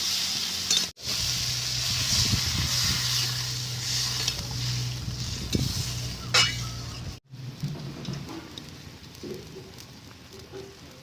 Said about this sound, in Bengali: মিশিয়ে একটু সময় কষিয়ে নেব